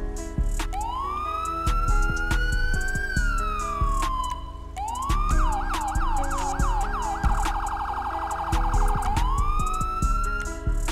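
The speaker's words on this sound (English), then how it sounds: "Okay, we got the state police here, so let's check out the siren." A modded state police car siren in GTA 5 wails up and down, then switches to a rapid yelp before returning to a long rising wail, loud and continuous with no talking.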